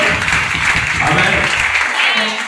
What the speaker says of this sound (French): continuons à acclamer pour la gloire de Dieu